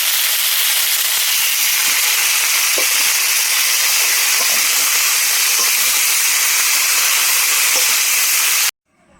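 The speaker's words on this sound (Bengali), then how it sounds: "এদিকে ভাত বসিয়ে দিয়েছি আর ভাত ফুটছে।" Steady, loud hissing and bubbling of rice boiling in a pot on a home kitchen stove, continuous and close until it cuts off abruptly near the end.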